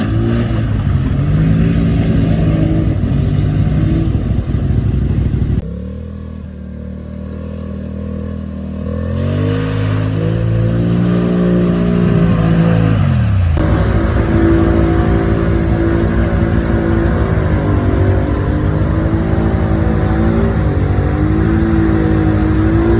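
A four-wheeler ATV with an open exhaust revs loudly up close, its engine rising and falling in pitch through several throttle blips, dipping briefly before climbing again and holding a rough, rumbling drone.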